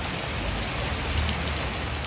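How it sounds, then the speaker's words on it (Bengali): Heavy rain pours down steadily in a dense, even hiss, close and continuous with no voices. "কি পরিমাণে যে বৃষ্টি হচ্ছে কি বলবো আপনাদের"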